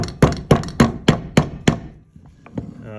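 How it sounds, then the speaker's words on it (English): Rubber mallet slapping the transmission cover of a Puch ZA50 moped apart: six sharp, evenly spaced knocks about a third of a second apart, close and loud, followed by a couple of fainter taps. "Usually want your mallet and your cover to be oil free so that when you're slapping outwards, it has a little bit of grab."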